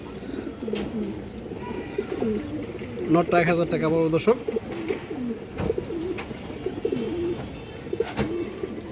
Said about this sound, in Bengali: অনেক বড় সাদের একটা কবুতর